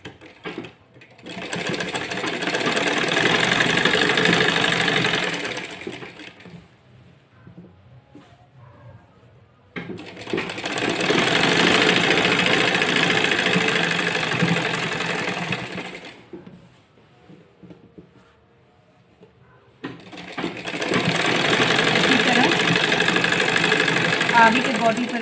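A sewing machine stitches a kurti in three bursts of rapid, even mechanical chatter, each lasting about five seconds, separated by quiet pauses, close and fairly loud.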